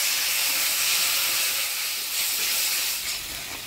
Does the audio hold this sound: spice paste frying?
yes